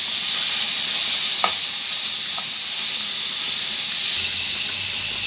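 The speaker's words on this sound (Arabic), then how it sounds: "وهنا فاش كتبدا الكفته ديالنا كطيب كنزيدو شويه ديال الصويا درنا معها شويه ديال الملح وشويه ديال البزار." Kofta sizzles loudly in a pan with soy sauce, salt and pepper, giving a steady, close hiss of frying with a few faint clinks, and no voices.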